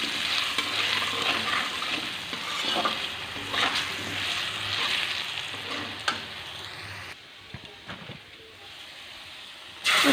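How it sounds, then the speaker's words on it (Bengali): Food fries in a pan with turmeric and salt, hissing in a strong continuous sizzle, then easing to quieter crackles after a few occasional stirring scrapes, close up with no talk. "তারপর হলুদ আর লবণ দিয়ে দিলাম, তারপর ভালো করে আবার ফ্রাই করব।"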